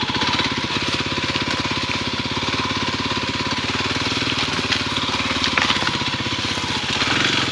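Kawasaki KLX 300 dirt bike idling steadily up close while being turned around, a loud, even, rapid thumping engine note with little change in pitch.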